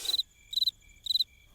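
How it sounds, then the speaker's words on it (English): Crickets chirp in three evenly spaced bursts of rapid trills, clear and close against an otherwise quiet background. "crickets."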